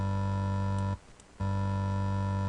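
A steady, buzzy synth tone from FL Studio's 3xOSC, two square oscillators plus a ramp, holds with rich harmonics. It cuts out for about half a second and then resumes unchanged.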